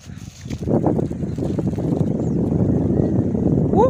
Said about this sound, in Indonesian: Oh, ada angin nak.